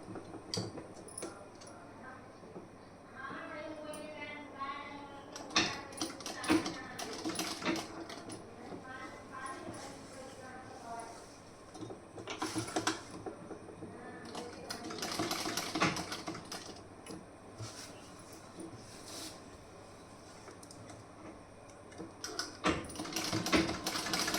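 A sewing machine stitches shoulder and fitting seams on fabric in bursts of fast rattling runs separated by pauses, while someone talks between the stitching.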